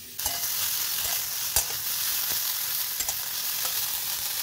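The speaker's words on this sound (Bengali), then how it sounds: "আর এই একটু কপি ভাজা করছি" Cauliflower fries in a pan with a steady, close hiss and sizzle, marked by a few sharp utensil knocks and clicks. No one speaks.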